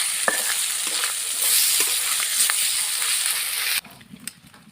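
Ginger and garlic drop into hot oil in a frying pan, setting off a loud, continuous sizzle with light stirring clicks, then the sizzle cuts down sharply near the end.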